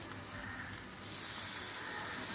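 Sweet paniyaram batter sizzles in ghee on a paniyaram pan, a steady close frying hiss that holds and swells slightly with no voices.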